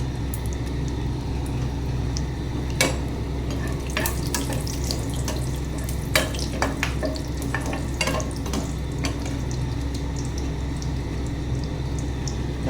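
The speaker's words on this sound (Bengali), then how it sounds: "কালি জিরা ফোড়ন দিয়ে দিলাম" Whole spices (cloves, cardamom, cinnamon, dried red chillies, bay leaves) and nigella seeds fry in hot oil for a kaju potol curry, giving a steady, loud sizzle with sharp crackles and pops scattered throughout.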